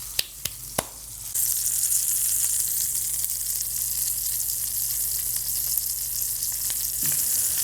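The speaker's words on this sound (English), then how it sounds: "The first 2 minutes are crucial for a good sear." A frozen NY strip steak searing in a hot pan: after a few sharp taps, a loud, close, steady sizzle kicks in and holds with small crackles, ending in a brief clatter near the end, with no speech.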